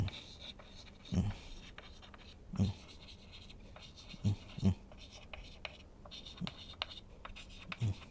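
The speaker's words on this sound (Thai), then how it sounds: "ขอเขียนวันวัดหน่อยนะครับ" Handwriting on a surface while inscribing a yantra talisman, faint scratchy strokes running through the clip with several low thumps, close and quiet, with soft speech alongside.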